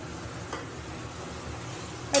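Chicken pieces being sautéed in spices with a splash of water in a pan, a soft continuous frying hiss with faint stirring scrapes and a brief louder clatter at the end.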